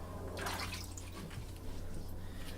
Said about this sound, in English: I'm going to add some more water to my stone